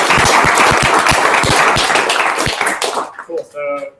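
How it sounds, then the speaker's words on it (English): A crowd applauds loudly at a DevFest hackathon results event, dense clapping for about three seconds before it fades and a voice starts talking. "So, big round of applause."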